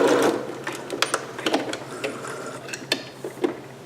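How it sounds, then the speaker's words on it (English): A sewing machine runs in short uneven bursts while back stitching a seam on a green performance gown, its needle ticking and clattering close by. "And back stitching."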